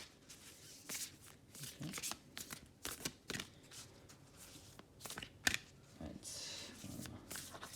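A deck of oracle and angel cards being shuffled by hand during a Taurus reading, with repeated crisp riffling and flicking bursts at close range, separated by short pauses, while a soft voice speaks briefly.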